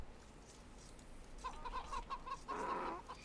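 Chickens clucking in a strategy video game match on the Arabia map, Vietnamese against Cumans, quiet at first, then a short run of repeated clucks and a louder burst of fowl calls near the end.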